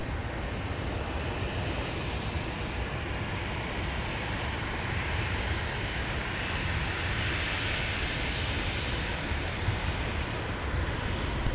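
A heavy airliner from Tokyo Haneda roars past at MSP airport in winter, a steady broad jet rumble sustained throughout, loud and close with no other sounds above it.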